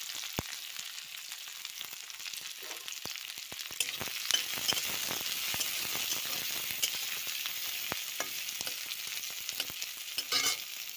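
Onion and capsicum fry in a pan for gobi manchurian, a steady close crackling sizzle with occasional sharper pops and stirring clicks running throughout, no speech.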